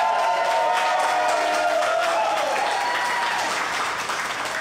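A church congregation applauds a pastor during a worship service, a loud full burst of clapping with some cheering that holds steady and eases slightly toward the end.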